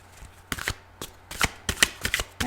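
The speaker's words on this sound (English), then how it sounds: "I also incorporate the way of the shuffle into the reading" Tarot cards being shuffled by hand, a series of quick crisp riffling bursts and soft slaps at an uneven rhythm, close and fairly quiet, with no voice.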